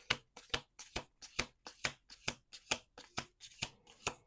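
Cards are shuffled in a quick riffle, about a dozen crisp, evenly spaced bursts of flicking and snapping, close and clear with no voices.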